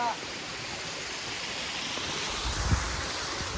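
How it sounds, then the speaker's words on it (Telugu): Gandikota waterfalls, water rushing steadily in a broad, even roar with wind across the microphone and a faint thump near the end. "సో చూడండి వాటర్ ఫాల్స్ ఎట్లా ఉన్నాయో ఇక్కడే మనకు"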